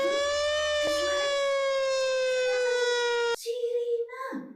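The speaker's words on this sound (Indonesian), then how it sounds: "Oh, suara sirine." A civil-defense-style siren holds a steady, loud wailing tone for about three seconds, then cuts off abruptly as a voice speaks briefly.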